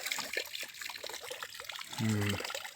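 Water trickles steadily from a spring in Bavaria, Germany, beneath faint background noise, and a brief tonal sound rises near the end.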